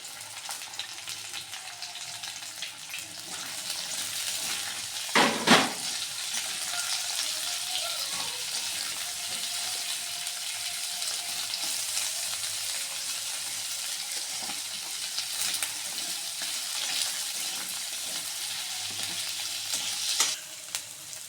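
Chopped onion and green chili frying in oil in a pan give a continuous bright sizzle, with a brief sharp clink of a utensil near the start and soft stirring scrapes.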